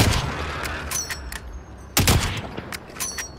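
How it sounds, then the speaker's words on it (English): Gunfire in Call of Duty: Warzone, a scatter of sharp shots with a loud close burst partway through and fainter, more distant reports around it, without talk. "I feel like there's someone shooting from the left as we look."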